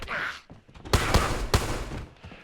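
Gunfire in the survival game DayZ: a few sharp, loud shots in quick succession with short gaps, ringing over a quieter background; a voice exclaims briefly at the start.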